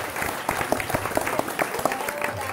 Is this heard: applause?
yes